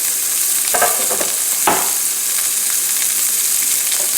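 Onion sizzles steadily as it fries in pork fat, with a few scraping stirs near the start and another in the middle, all close and even throughout.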